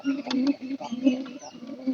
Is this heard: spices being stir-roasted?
no